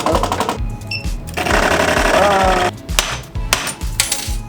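A modified Ender 3 3D printer runs backwards after a part melted, giving a loud, busy mechanical clatter of rapid, uneven motor and carriage knocks with a brief whining tone partway through.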